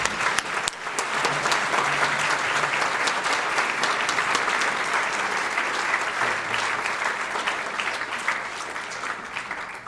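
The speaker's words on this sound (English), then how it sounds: "Give the governor another round of applause" Loud, continuous clapping from a dinner crowd at the Merrimack Valley Chamber of Commerce annual event greets the governor, swelling quickly after a brief start and easing gradually near the close, with a little chatter underneath.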